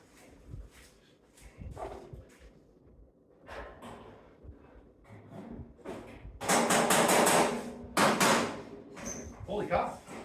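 A persuader hammer striking roadster bodywork in a workshop, with scattered knocks and a loud burst of metallic banging in the middle, mixed with clatter and occasional talk.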